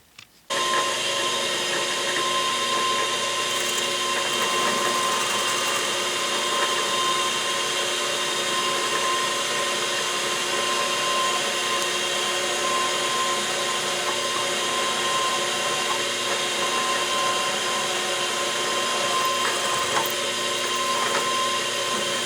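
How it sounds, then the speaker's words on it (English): Steady close machine drone of a small drill boring a 3/32 hole into a Stuart Progress steam engine part, continuous and unbroken for the whole stretch with no talking. "I'm just going to drill until I feel the drill break through and intersect"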